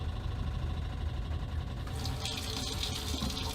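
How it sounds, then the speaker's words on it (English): Hot water gushes from a caravan tap fed by a pump and a Truma Combi D6 diesel heater and hot water system, a steady close hiss of running water that swells and brightens partway through. "I'm gonna turn our tap to hot, and I'm gonna see if we get hot water"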